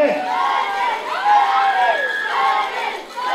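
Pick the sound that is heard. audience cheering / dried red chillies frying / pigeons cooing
audience cheering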